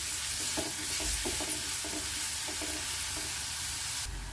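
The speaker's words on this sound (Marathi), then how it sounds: "आला देखील मी याच्यासोबतच घालते चांगला आपल्याला परतून घेऊया" Curry leaves and ginger sauté in hot oil for a Maharashtrian vegetable dish, producing a dense, steady sizzle up close with soft stirring scrapes woven through it.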